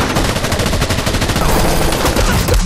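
Intense gunfire from an action film battle, loud, dense bursts of automatic shots rattle continuously for under three seconds.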